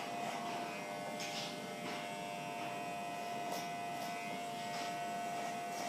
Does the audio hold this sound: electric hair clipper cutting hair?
yes